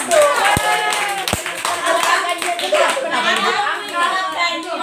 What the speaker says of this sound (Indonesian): Tepuk tangan kan?